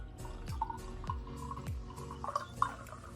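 Home-brewed coffee beer pours into a 10-ounce glass, a soft liquid glug with faint drips and little fizz, close and fairly quiet, with no talking over it.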